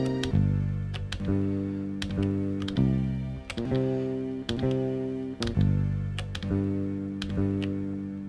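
Sample-based hip-hop beat on an Elektron Digitakt with samples pitched down five semitones: a steady looping groove of sharp percussive hits over thick, low chordal sample layers, moderately loud with no talking.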